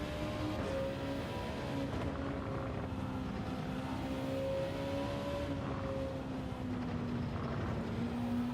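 A racing car engine in a video game time trial, droning loudly and continuously with a rising and falling whine as the revs climb and ease off.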